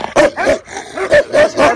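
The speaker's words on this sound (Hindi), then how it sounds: "ये बड़ा ही जबर कुत्ता है, अब इसका पारा हाई हो गया, अब दूसरे कुत्ते को पढ़ना शुरू हो गया" An angry dog barks and yips aggressively at another dog, several sharp close barks in quick bursts with short gaps between them.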